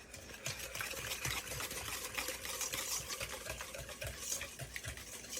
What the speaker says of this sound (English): crack 4 large eggs at room temperature, one at a time, and whisk it into it until combined